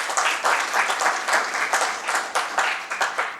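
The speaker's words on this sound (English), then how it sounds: "a big round of applause" Audience applause at a startup conference session in Davos, a steady round of clapping filling the room, moderately loud and close, with rhythmic swells and no talk over it.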